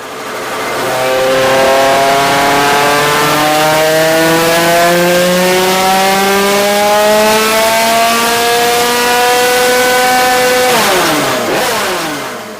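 A small two-stroke 88cc Stage6 moped engine revs up steadily, its pitch climbing over several seconds before dropping back sharply near the end, loud and close.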